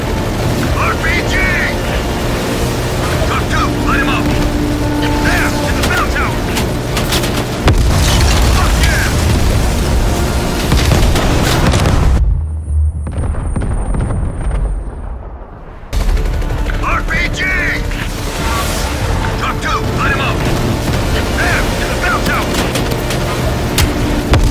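Call of Duty Black Ops Cold War combat explodes with RPG blasts and rapid gunfire, loud booms and dense shooting running almost nonstop, with a short muffled lull partway through and voices calling out over the noise.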